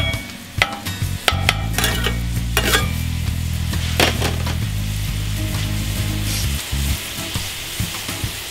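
Garlic sizzles and fries steadily in a pot on high heat while a utensil stirs it, scraping and clinking in irregular bursts over a constant close frying hiss.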